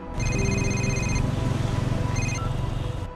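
A phone ringtone plays loudly and steadily, a repeating electronic melody that stops after a few seconds.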